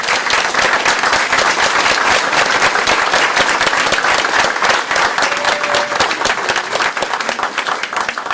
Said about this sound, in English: I'd like to have you all give her a round of applause again.